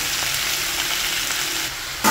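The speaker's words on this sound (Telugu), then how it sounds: "ఈ కట్ చేసుకున్న వెజిటేబుల్స్ అన్నీ వేసుకుని మనం బాగా కలుపుకోవాలండి." Cut radish and tomato sizzle loudly in a hot tempering as they are stirred in a pan, a steady close frying hiss running throughout.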